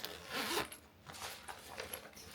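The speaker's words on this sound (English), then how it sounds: "This is one of 2 locking zippers, the main compartment" A locking zipper on a travel pouch's main compartment is drawn open in a short, close, raspy pull of about two seconds.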